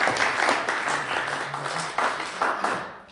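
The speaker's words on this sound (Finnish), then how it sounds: "Ja annetaan aplodit Tuomas" Audience applause at a parish hearing event, a steady wash of many hands clapping with a little voice mixed in, fairly close and sustained throughout.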